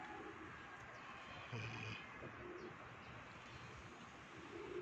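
Pigeons take off and flutter outdoors, cooing softly amid steady ambient background noise, with a few faint chirps and no clear voices.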